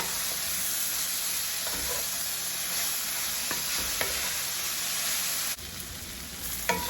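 Onions sweat in a pan over medium heat with kosher salt, giving a steady close sizzle and hiss with occasional stirring scrapes throughout.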